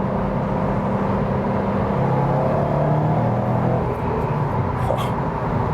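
A Subaru WRX STI engine hums steadily in third gear in normal mode, heard from inside the cabin as a moderate, even drone with road rumble and no talking.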